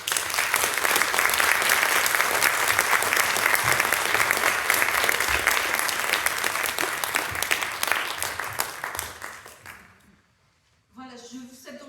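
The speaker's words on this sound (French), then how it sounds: "je voudrais qu'on leur fasse un grand applaudissement" An audience at a Breton costume parade applauds loudly and steadily for several seconds, the clapping thinning and fading out before a voice starts speaking.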